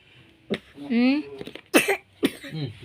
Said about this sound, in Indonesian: Kan batuk gue.